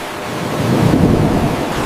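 A thunderstorm rolls steadily with rain, a deep sustained rumble of thunder swelling and easing under the constant wash of falling water, with no voices.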